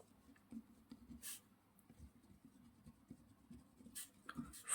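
Pen or marker writing out a maths problem on matrices and determinants, soft scratchy strokes and taps in short irregular bursts, faint and close with no talk.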